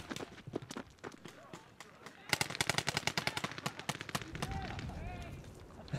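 Woodsball paintball guns fire outdoors in quick repeated pops and short rapid bursts, some near and some farther off, while players shout and talk over them.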